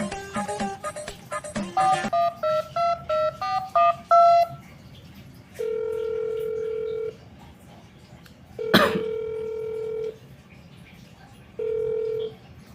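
A quick run of telephone keypad beeps, then drawn-out ringing tones with pauses, one interrupted by a cough.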